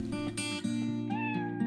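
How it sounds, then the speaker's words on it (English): Kitten in the video game Drizzlepath: Glass giving a series of loud, close, drawn-out meows, several calls in quick succession over a steady tonal background. "That is a big meow coming out of you."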